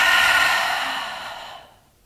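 A steady breath blown out through the mouth during a yoga breathing exercise, one long airy exhale that starts strong, thins out over about two seconds and fades to silence, close and alone.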